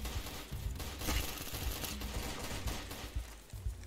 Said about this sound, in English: look at those bullets fly through the wall